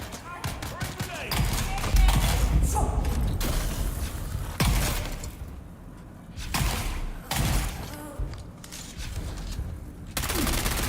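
Grenade blasts and gunfire in the Dune: Awakening survival game, a series of heavy booms and rattling bursts recurring across the span, loud and dense, with brief quieter gaps between.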